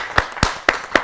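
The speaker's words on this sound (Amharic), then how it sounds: "አጨብጭቡለት በደንብ አድርጋችሁ።" Audience applause for a child at a children's television show, a few sharp separate claps spaced about a quarter second apart, close and fairly loud with no talk.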